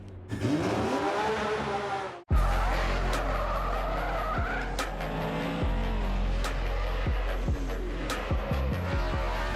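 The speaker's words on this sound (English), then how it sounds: "Nice drifting, Freddie." A race car drifting at a Formula Drift pro competition in New Jersey, engine roaring loudly and continuously with long tire squeals and skidding, a brief cut, then more revving and screeching close by.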